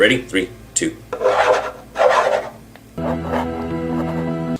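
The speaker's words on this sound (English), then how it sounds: "It is me using a pen or a pencil to scrape across this desk" A pen or pencil scraped across a desk in short raspy bursts, close and fairly loud, after a voice gives a brief countdown; a steady tonal hum then takes over.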